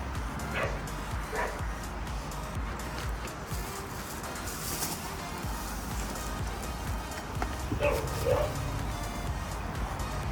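A few small, high-pitched yaps from a puppy, brief and spaced out, heard against steady road or car noise with some faint voices.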